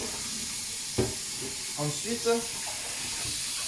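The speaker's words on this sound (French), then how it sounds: "vous balancez de l'eau dans la gueule de la poêle pour que les résidus qui ne sont pas encore accrochés à la poêle s'en aillent" Water is splashed into a frying pan to loosen leftover sauce residue, a soft steady rushing hiss with a few faint clinks, and a voice speaks briefly over it.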